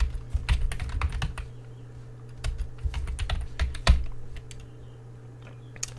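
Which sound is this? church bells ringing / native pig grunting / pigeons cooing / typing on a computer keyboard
typing on a computer keyboard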